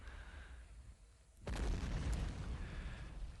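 A mortar shell detonates in the war game Men of War, with a sudden heavy boom after a quiet stretch and a rumbling, fading tail under faint background sound.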